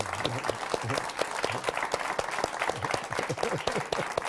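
Studio audience on an Argentine cultural talk show claps for guest Alejandro Dolina, a moderate, uneven burst of hand claps close by, with a voice murmuring underneath.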